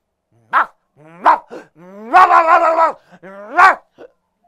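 A man imitates a dog with his voice, giving several short yelping barks and a longer drawn-out howling bark in between, loud and close in a quiet room.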